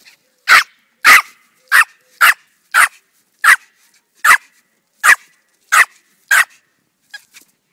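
A small ratter-type dog barks about ten times in a steady, evenly spaced series, loud and close, followed by a couple of faint yips.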